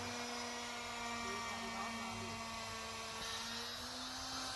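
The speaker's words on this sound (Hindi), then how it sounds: "और यहाँ पे ये लूबर हमारा कट रहा है" A router bit cutting louver grooves into MDF board with 11 mm ply strips, a steady high-pitched whining hum that holds constant throughout, with a voice faintly underneath.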